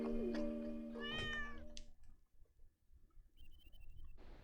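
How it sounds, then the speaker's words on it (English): A small cat named Banter Paws gives a couple of clear, rising meows close by, followed by quieter rustling and faint room noise. "Well, little Banter Paws, you be a good kitty now"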